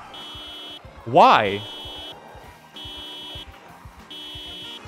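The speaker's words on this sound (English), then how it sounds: "Why is there a car alarm going off?" In the video game Project Zomboid, a car alarm blares in regular on-off pulses of a buzzing electronic tone, with rhythmic clicks beneath it, while a voice briefly speaks over it.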